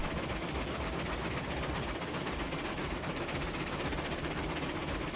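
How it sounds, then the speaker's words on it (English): Dense, rapid Heisler steam locomotive chuffing in Railroads Online runs continuously at a steady loud level, a rough rhythmic exhaust beat with no talking. "the chuffs on the Heisler is still not correct"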